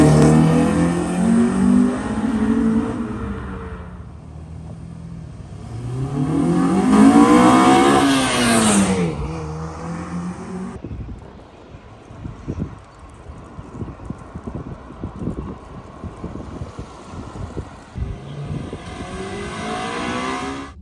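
Honda Civic with a swapped-in GSR engine revs hard and loud into VTEC, climbing and falling twice over about ten seconds, then its tires spin with a rough, choppy scrabbling that fades and returns.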